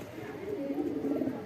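Pet hobby pigeons coo softly and continuously close by, making low, throaty rolling murmurs that swell slightly toward the end over a quiet room.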